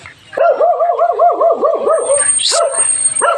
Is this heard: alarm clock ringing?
no